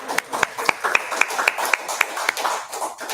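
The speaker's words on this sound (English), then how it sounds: "Y'all can clap for that." Audience members clap at a talk on Black women and the healthcare system, sharp claps falling in a fairly regular rhythm, close and moderately loud, with voices underneath.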